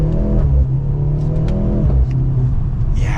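A 2023 Mercedes-Benz C43 AMG 4MATIC accelerates hard in Super Sport mode, its engine rising loud and close through the gears with a steady rumbling drone and a brief shift break.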